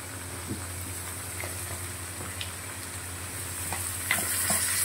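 Onions fry in a pan for chicken curry after cardamom and cinnamon, giving a constant soft sizzle with faint crackles and a few light stirring knocks, close and moderately quiet, no talking.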